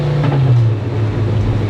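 A Porsche with a swapped VW Passat engine fitted with a Garrett turbocharger, making 350 horsepower, revs in a brief loud burst, its deep engine note rising and then settling into a steady rumble.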